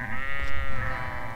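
Sheep bleating on grazing slopes near a ski area in autumn, a continuous wavering bleat held for over a second, fairly close and alone.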